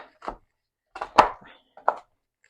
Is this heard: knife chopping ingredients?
yes